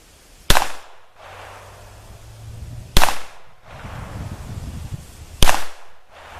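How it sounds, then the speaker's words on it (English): Three sharp, fairly loud shots from a Beretta U22 Neos .22 pistol at outdoor targets, spaced about two and a half seconds apart, each with a brief crack and short decay over faint background noise. "So let's shoot a few of these and see what happens here."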